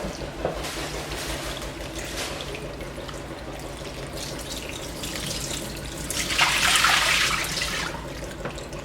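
Vegetables are washed under running water, a continuous close splashing and gurgling that swells louder and brighter for a couple of seconds near the end before settling back.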